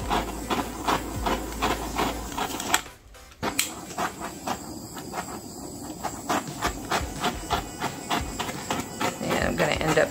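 A torch flame blows steadily over an acrylic pour of Lukas Cryl acrylics mixed with Floetrol, giving a continuous close hiss with a brief break near the three-second mark before it resumes.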